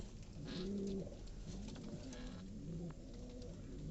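Pigeons coo steadily outdoors in a hot village, several birds layered together in low, rolling calls that sound fairly close, with no talk.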